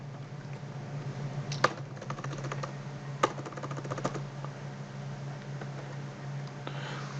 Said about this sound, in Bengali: আমরা সার্চ বারে লিখব সিস্টেম ইনফরমেশন।